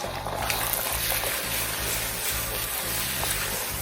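Two eggs frying and being scrambled in a pan for shrimp fried rice, a steady loud sizzle with faint stirring scrapes throughout and no talking.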